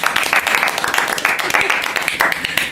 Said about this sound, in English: a small round of applause, I think, for Lewis Hamilton, 5-time world champion.